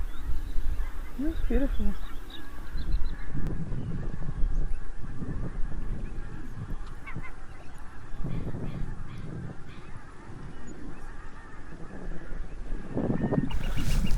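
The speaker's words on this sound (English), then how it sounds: "That oyster catcher's getting a bit carried away, isn't it?" An oystercatcher calls repeatedly beside a yacht on the water, its sharp calls coming in bursts over a steady low background rumble while someone speaks briefly.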